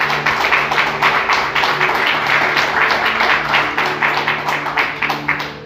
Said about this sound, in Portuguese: Vamos aplaudir o nome dele bem forte.